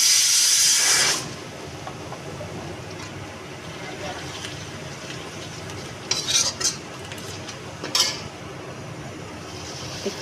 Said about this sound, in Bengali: এরপরে ওই গ্রেট করা আদা আর কাঁচা লঙ্কা কুচি দিয়ে ভাজবো।